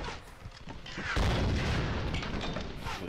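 A grenade explodes in the video game Tomb Raider Definitive Edition, a loud, close boom that swells suddenly and then rumbles on with a dense, crackling tail and no talk.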